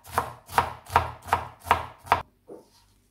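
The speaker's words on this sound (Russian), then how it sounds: "Айсберг салат нарезаем соломкой." Six sharp, evenly spaced knife chops cutting iceberg lettuce into strips on a cutting board, crisp and close, followed by a softer scrape and quiet.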